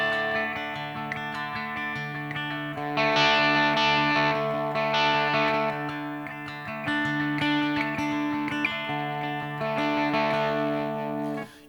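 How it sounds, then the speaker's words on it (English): An electric guitar plays sustained, chiming chords through a distortion effect, each picked strum ringing out thick and saturated with a steady, repeating rhythm and no voice present. "You can hear the distortion reacting differently to the brightness and the darkness of each of those techniques"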